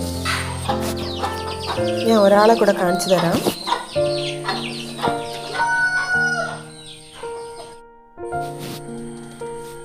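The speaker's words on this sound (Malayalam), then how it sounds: "ഇവിടെ ഒരു ഫാൻസി കോഴി മുട്ടയിടാൻ കിടപ്പുണ്ട്" A fancy hen settled down to lay an egg in a home poultry yard clucks and calls in short, pitched bursts. The calls are close and fairly loud, mixed with a person talking over them.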